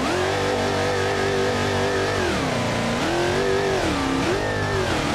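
A high-performance car in the driving simulator BeamNG.Drive revs hard and steadily, its loud engine tone sweeping down and climbing again through gear changes, close and without talk.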